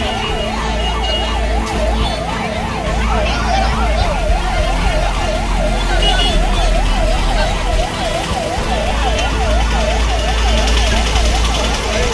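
An ambulance siren wails steadily in a fast up-and-down pattern over loud, constant traffic rumble during a road blockade protest near Arakkonam, staying prominent throughout.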